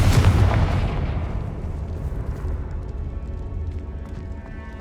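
A Confringo spell blasts off in the video game Hogwarts Legacy, one loud booming explosion with a deep rumbling tail that fades over several seconds, heard alone.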